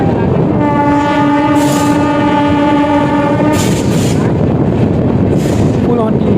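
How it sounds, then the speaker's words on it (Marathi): A train pulls into Sangola railway station on the Hospet superfast express route, sounding a long, loud horn with steady harmonic tones over continuous rumbling and clatter, with voices faintly audible. "आपलं सांगोला रेल्वे स्टेशनवरती आगमन होत आहे"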